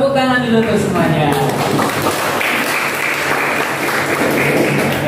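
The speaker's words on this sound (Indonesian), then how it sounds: "Tepuk tangan dulu untuk semuanya." A classroom of students breaks into dense, sustained clapping that swells after a voice speaks briefly at the start, then fills the room loudly for several seconds.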